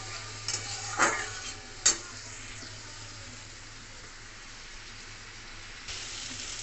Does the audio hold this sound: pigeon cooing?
no